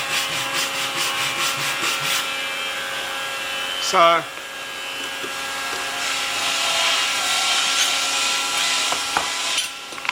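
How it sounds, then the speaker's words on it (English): Hand saw cutting rebates into a wooden box workpiece, guided by a guide block: steady rasping back-and-forth strokes close up, with a brief sharper scrape midway and a short spoken word. "Again, sawing down to the line."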